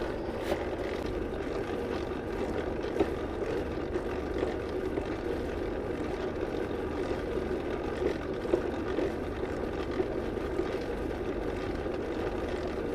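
A lathe machine runs with a steady, dense mechanical drone that holds an even level throughout, with no voices.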